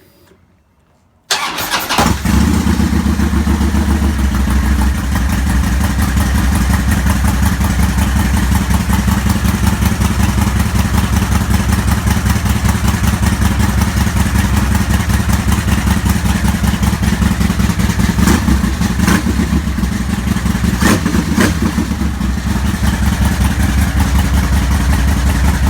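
A Harley motorcycle fitted with new NGK Iridium spark plugs fires up after a second of silence, then settles into a loud, steady, rumbling idle that continues for over twenty seconds.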